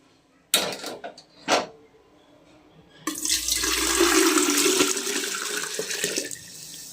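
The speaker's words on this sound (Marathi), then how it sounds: "आपण यामध्ये पाणी उकळलेलं आहे घालून घेऊया" A couple of sharp knocks, then boiling water gushes and pours noisily into a pot for about three seconds before tapering off.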